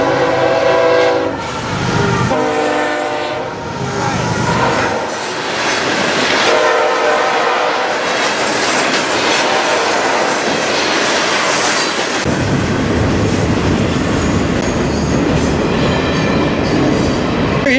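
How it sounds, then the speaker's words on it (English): A loud freight train of rock cars and intermodal cars passes close by, horn blaring at first, then a long heavy rumble of wheels and rattling cars rolling steadily past. "You had basically a full rock train, and then you had intermodal behind it"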